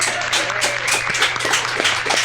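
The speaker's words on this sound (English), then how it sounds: "just give a round of applause" Audience applause after a host's call at a live rap show, a steady wash of clapping with cheering over a constant low hum, lasting about two seconds at even loudness.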